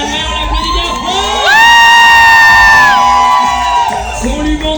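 A crowd at a drag show in Poitiers cheers loudly and close, with high whoops and sustained shouting voices swelling into a long collective yell.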